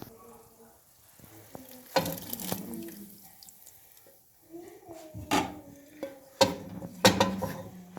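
Spiced tempering with red chillies is poured into cooking lentils (daal), giving bursts of sizzling and frying hiss mixed with clinks of pots and utensils, close by, with quiet gaps between the louder splashes.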